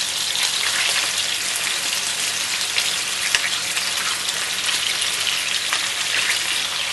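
Chicken pieces sear in a pan over low heat for chicken Marengo, giving a dense, even crackling sizzle that holds steady throughout, close and loud, with a few faint pops and no talking.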